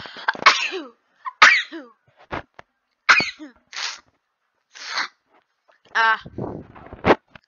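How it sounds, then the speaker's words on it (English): A person sneezes in a quick cluster, about a dozen sharp bursts separated by short silences, loud and close with faint gasps between them. "Cluster sneeze."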